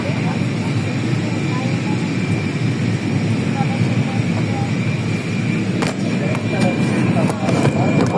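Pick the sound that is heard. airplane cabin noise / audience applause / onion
airplane cabin noise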